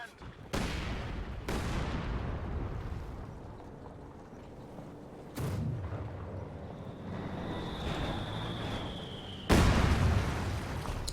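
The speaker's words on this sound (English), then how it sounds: "Now he's got so much infantry that it can just be bombed on by these heavy mortars." Heavy mortar shells landing in a Company of Heroes 2 match, a few sharp booming impacts spread across the stretch with rumbling battle noise between them and a high whine near the end.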